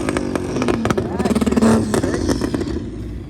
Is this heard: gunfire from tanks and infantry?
no